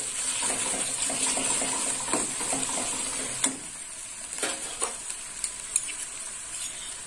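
Prawns with yardlong beans and turmeric and green chilli paste frying in a pan, a steady sizzle with a few sharp spoon scrapes and clinks as the mix is stirred.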